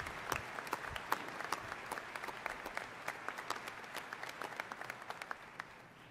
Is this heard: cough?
no